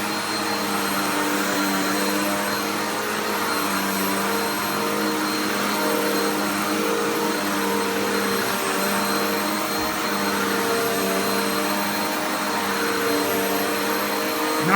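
A Eureka Contour upright vacuum cleaner motor runs steadily and loudly the whole time, a constant whine with strong tonal hum and airflow rush, no talking.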